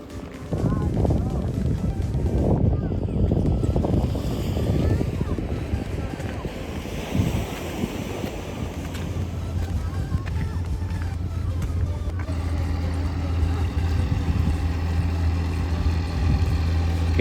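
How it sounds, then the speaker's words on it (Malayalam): A fishing boat comes in from the sea at Azheekal beach in the evening, a low steady engine drone emerging under constant surf and wind buffeting, with people talking throughout. "ഈ ബോട്ട് കയറി വരുന്നുണ്ട്. ഫിഷിങ്ങിന് പോയ ബോട്ടാണ്."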